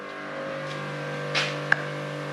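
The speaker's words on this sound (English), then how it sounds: "This is actually running on a 3UZ," A Toyota 3UZ V8 fitted in a Ford Econoline idles steadily with a low, even hum, close and continuous, a brief rise in intensity and one sharp click partway through.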